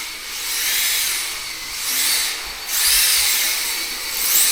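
An RC car fitted with an Acuvance Xarvis ESC whines through a test drive, its high motor and drivetrain pitch rising and falling in several surges as it accelerates, brakes and passes, with no talk.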